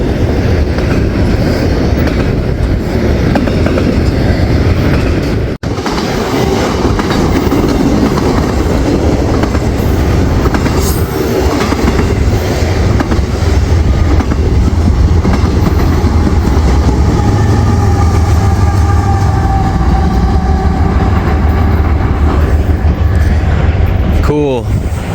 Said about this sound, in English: We've got a hot westbound Z train on the BNSF Aurora subdivision.